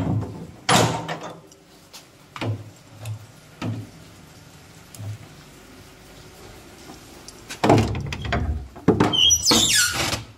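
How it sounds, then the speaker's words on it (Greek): A door is worked open beside a padlocked entrance. Scattered knocks and metallic clunks lead to louder squealing, scraping bursts near the end, close and sharp against a quiet room. "Δεν ξέρω τώρα πώς να ανοίξω την πόρτα."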